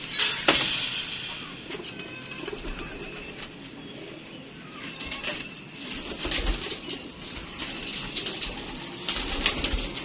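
Pigeons coo in a loft or yard, low soft calls repeating through a steady murmur of background noise, with a few brief taps and rustles.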